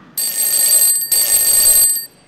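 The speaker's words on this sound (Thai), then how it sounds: "เป็นเสียงนาฬิกาปลุกที่เราไม่ชอบกันเลยนะคะ" An alarm clock signaling the end of a five-minute presentation slot rings loudly in two continuous electronic bursts, separated by a short gap, then cuts off.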